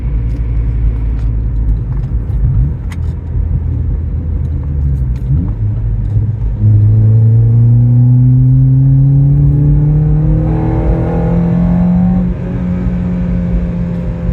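A car idling with a loud, steady rumble after an ECU tune, the engine revving up partway through with a rising drone that holds and then settles back down.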